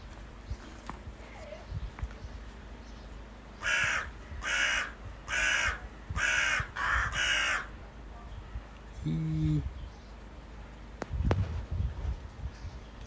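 A crow caws outdoors in a series of five or six hoarse calls in a steady rhythm, moderately near, followed by quieter scattered rustles and a low thump.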